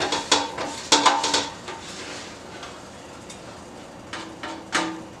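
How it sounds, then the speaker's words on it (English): Utensil scraping and clattering against a stick pan while beef stock ingredients are tipped in, a few sharp bursts near the start and again toward the end, close and moderately loud with quieter gaps between. "If it's a stick pan, then you gotta just scrape it a little bit more."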